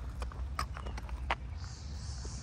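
Horse hooves clip-clop at a steady walking pace during a riding lesson, over a low rumbling background, fairly faint and moderately close.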